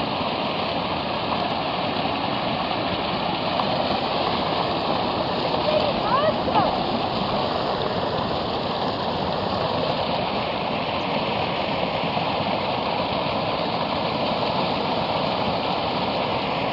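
Spring water pours steadily into a container at a lakeside spring near Nanaimo, a constant close rushing and splashing that runs unbroken throughout.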